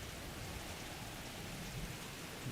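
Rain falling in a VR video game: a faint, steady patter and hiss of rainfall with soft low rumbles, continuous and without talking.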